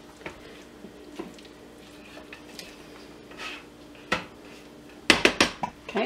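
Spatula scraping and clinking against the sides and blade of a blender jar full of cauliflower mash, a few soft scrapes followed by a quick burst of sharp knocks near the end, close and fairly quiet.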